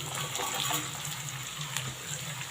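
Small shallots go into hot oil for an eggplant kuzhambu and sauté with a steady, dense sizzling hiss that stays close and fairly loud throughout, with no voices.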